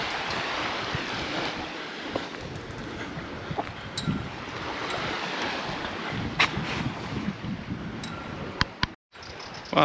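Sea waves wash along the shore at Portals Nous, Mallorca, a continuous rushing surf mixed with heavy wind buffeting on the microphone and a few sharp knocks, with no talking.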